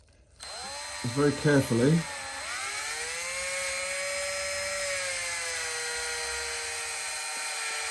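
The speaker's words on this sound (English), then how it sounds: "When I do this, I'm going to stick this in a drill." A power drill spins a motorcycle valve, starting with a sharp whir and settling into a steady, loud high-pitched whine that holds to the end, with someone speaking briefly near the start.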